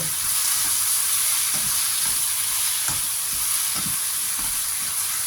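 Pieces of fish with peas are stir-fried in sesame oil in a pan: a steady, close sizzle with regular scrapes of a spatula, and no one talking.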